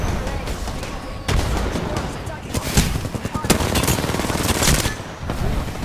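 Missiles exploding during a firefight in the video game Apex Legends, with loud, dense bursts and rattling blasts stacking up near the player over steady background combat noise.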